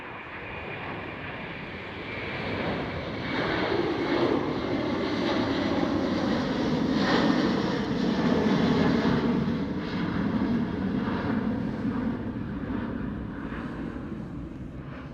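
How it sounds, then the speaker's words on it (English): A Delta Air Lines Airbus A330 at Amsterdam Schiphol gives off a steady, moderately distant jet rumble that rises gently toward the middle and fades a little, heard alone without voices. "This is Delta Airlines Airbus A330,"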